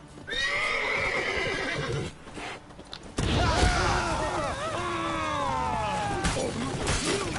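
A horse neighs loudly with high, wavering whinnies, amid hoof clatter and action sounds in The Witcher on PS5, after a brief quieter pause.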